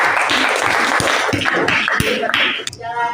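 Students in a physics classroom applaud a group returning to their seats, a dense burst of many hands clapping that fades out after about two and a half seconds.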